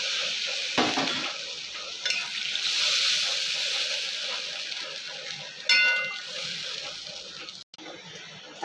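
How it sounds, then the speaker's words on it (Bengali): Water poured into a hot frying pan while cooking a fish curry, giving a steady, close hissing sizzle with a few sharp clinks of a utensil against the pan. "এখন জল দিয়ে দেবো। পরিমাণ মতন জল দিয়ে দেবো।"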